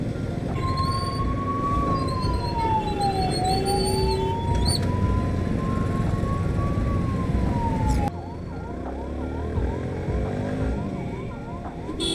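An ambulance stuck in a traffic jam sounds its siren nearby, first in a slow rising and falling wail, then switching to a fast repeating yelp, over a steady rumble of traffic.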